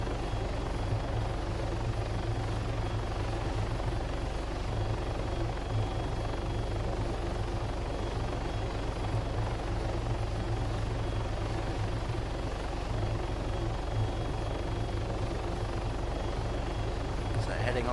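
A helicopter's rotor and engine in the military game Arma 3, a steady, continuous throbbing drone that holds at an even loudness throughout.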